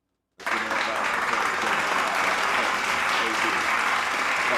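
A canned applause sound effect triggered from a soundboard button during a podcast, bursting in abruptly after a moment of silence and holding as steady, dense studio-clean clapping at high level to the end.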